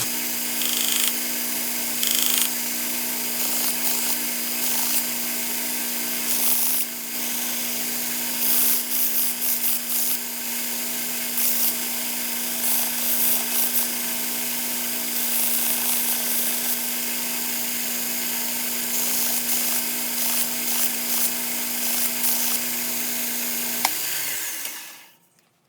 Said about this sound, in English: we're going to switch out and go to a 120 grit belt now